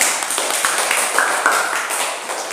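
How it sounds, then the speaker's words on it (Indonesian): Pupils in a classroom clap for a classmate, a dense, continuous burst of many small hands close by, fairly loud and steady throughout. "Kita beri tepuk tangan untuk Selon ya."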